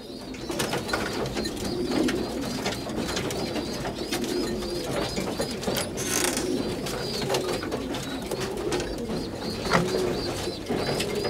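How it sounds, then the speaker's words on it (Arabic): Pigeons cooing in a loft, several soft repeated coos overlapping against a busy background of rustling and scattered bird noises, steady and fairly close throughout. "شوف الخوت الحمام عطشان عطشان عطشان"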